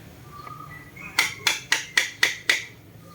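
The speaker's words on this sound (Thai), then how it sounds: "จุดนี้ใช้ปากแบนตอกสักนิดก่อนนะครับ" A hammer drives a flat chisel against a washing machine spin-shaft bearing, giving six sharp metallic strikes in a steady rhythm, close and clear, with nothing else around them.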